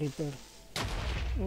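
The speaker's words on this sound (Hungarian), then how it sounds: "Úgy, persze, robbant be." An explosion bursts suddenly in the Minecraft video game, a sharp broadband blast midway that sustains as a rumbling roar, with short voice-like tones before and after it.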